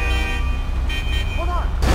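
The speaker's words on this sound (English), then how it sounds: "I mean, they still honk at you" A car horn gives a short honk in the FiveM video game, a brief toot set against loud engine and traffic noise.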